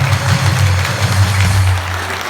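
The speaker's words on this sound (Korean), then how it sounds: "자, 박수로 한번 축하하겠습니다" Audience applause at a Korean church gathering honoring Pastor Jeon Kwang-hoon, a dense steady wash of clapping that stays loud and continuous with no talk over it.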